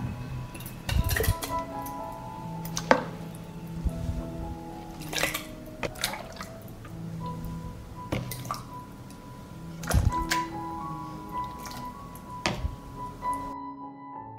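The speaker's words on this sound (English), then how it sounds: "While the salad is hot, I immediately pour it into the jars." Hot cooked salad is spooned and poured into sterilized glass jars, giving wet squishy slops and bright glass clinks from utensils against the jars, close up and without talk.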